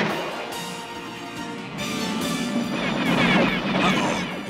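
Cartoon battle gunfire from enemy forces shooting back, a dense run of blasts and crashing impacts that grows louder and busier toward the end, with no talking.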